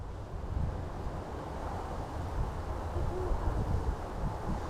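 A horned owl hoots faintly in a forest, far off and nearly buried under steady wind and distant traffic rumble.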